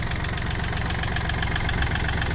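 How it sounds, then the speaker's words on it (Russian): A Yanmar AF220 mini tractor engine idles steadily and loudly nearby, a continuous rough diesel chatter with even knocking pulses and no voices. "Краткий обзор мини-трактора Yanmar AF220."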